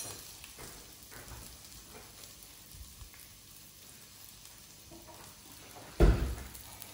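Food frying in oil in a pan, a steady soft sizzle throughout, with a brief louder clatter near the end.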